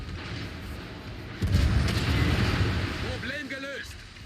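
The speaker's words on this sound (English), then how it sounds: "Oh my god, he took a torpedo?" A torpedo strikes a warship in the World of Warships video game, landing as a sudden heavy boom that swells into a sustained rumble while a voice talks over it.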